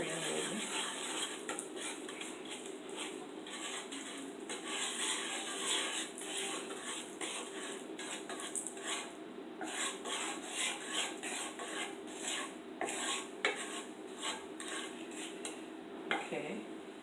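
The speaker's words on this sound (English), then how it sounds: "I'm just gonna burn the curry a little bit" Curry powder toasting in a heated pot for curry shrimp, stirred with steady scraping and rasping of a utensil against the metal, close and continuous with small clinks.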